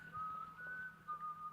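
An eerie whistle from the horror game White Day: A Labyrinth Named School, a thin, faint, wavering tone held in three short phrases over a low background hum.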